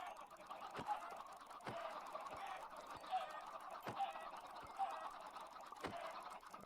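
Chickens cluck softly in Minecraft, faint game bird calls repeating at a low level over a quiet background with occasional light clicks, no voices.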